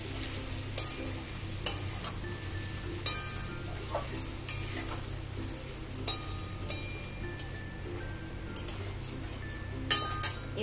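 Soybean chunks and potato fry with chili and cumin powder while a spoon mixes them, giving a low, steady sizzle under regular clinks and scrapes against the pan throughout.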